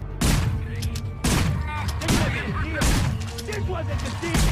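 Shotgun blasts in the video game Manhunt, several heavy booming shots spaced about a second apart, each with a rumbling tail, mixed with other game sounds and a voice talking.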